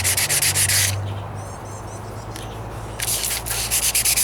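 Wet sanding a 1998 Toyota Corolla hood by hand with 180 grit sandpaper: close, rhythmic back-and-forth rasping strokes in two bursts, separated by a quieter stretch of softer rubbing.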